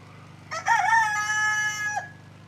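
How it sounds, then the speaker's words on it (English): A rooster crows loudly and clearly once on a homestead, a long drawn-out call lasting over a second, over a faint low hum. "Come out here and say hi to all the chickens."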